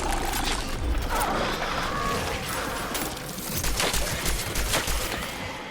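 Rapid bursts of gunfire in the video game Cronos: The New Dawn crackle and pop, with sharp repeated shots over a busy, noisy background.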